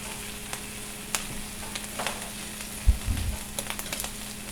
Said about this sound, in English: cooking your sandwiches with real butter on the griddle or the skillet is part of the original recipe